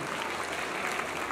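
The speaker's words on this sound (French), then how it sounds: "il faudrait commencer par vous applaudir vous-même" A festival closing-ceremony audience applauds the players, dense, even clapping filling the whole short stretch at close range.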